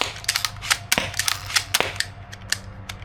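A Steambow pump-action crossbow fires off the last bolts in its magazine, a quick run of sharp, close snapping shots and clacks spaced irregularly over about three seconds.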